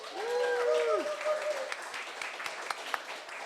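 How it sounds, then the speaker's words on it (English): A live podcast audience greets a guest with soft, diffuse applause under a brief sustained musical or vocal tone, the clapping continuing faintly in the background. "Give him a round of applause, Andre."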